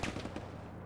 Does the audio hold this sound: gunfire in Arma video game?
yes